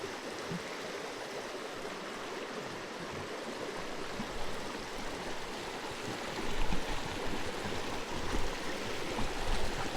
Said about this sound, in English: So here's some of that heavily oxygenated water.